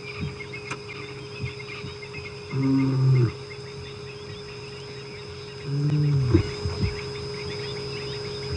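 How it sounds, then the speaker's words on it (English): A lion on a safari drive gives two short, low, moaning roars a few seconds apart, at moderate distance over a quiet outdoor background with faint vehicle hum. "So if you listen clearly, he's giving off a little roar"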